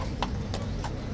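Hooves of a very large horse from the Life Guards clip-clopping on pavement, three distinct close strikes in a steady rhythm over a low outdoor rumble.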